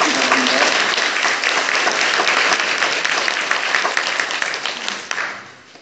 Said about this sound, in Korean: 우리 큰 박수 부탁드립니다.